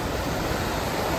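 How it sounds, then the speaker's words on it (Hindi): A mountain waterfall pours down from above on the high Himalayan route toward Panchtarni, giving a steady, close, unbroken roar of rushing water with no voices. "सुंदर दृश्य, ऊपर से झरना आ रहा है"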